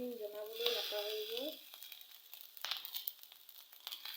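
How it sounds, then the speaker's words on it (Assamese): Rice frying in a pan, sizzling and crackling softly at close range; a voice talks over the first part, and the sizzle then continues alone with light stirring scrapes. "ভাতটো ভাজি একদম ধুনীয়া হৈছে"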